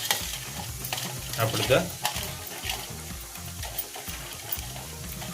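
Sooji (ravai kakara) sweet balls deep-frying in oil, a continuous bubbling sizzle with occasional stirring clatter, and a voice speaking briefly over it.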